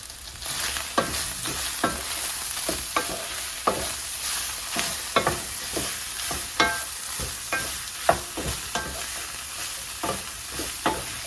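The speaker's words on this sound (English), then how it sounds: "I'm gonna go ahead and mix it." Chicken dressed with seasoned salt being mixed in a hot pan for a mushroom chicken dinner: repeated close spoon scrapes and clanks over a constant frying sizzle, irregular strokes, no talking.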